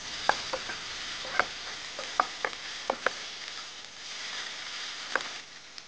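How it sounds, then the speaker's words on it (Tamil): Onion and a small tomato are sautéed in a pan, with a soft, steady sizzle close by. Scattered sharp clicks from a spoon stirring against the pan punctuate the sizzle. "இப்போ வந்து இந்த வெங்காயத்தை வதக்கிக்கிறோம்"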